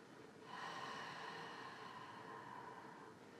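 During a yoga stretch, a person lets out one long, breathy exhale, soft and close, lasting a few seconds before fading, with no talking.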